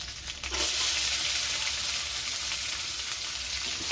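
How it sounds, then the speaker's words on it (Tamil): Onions sauté in a pan, giving a loud, even hiss of frying that rises quickly after a short, quieter start and then holds steady throughout. "வெங்காயம் சேர்த்துட்டு வெங்காயம் வதங்கினாக்கி நல்லா வதக்கி விட்டுடலாம்"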